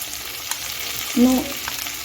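Vegetables with ginger juice frying on high heat in a pan, a steady close sizzle with a brief scrape of stirring partway through and no voices.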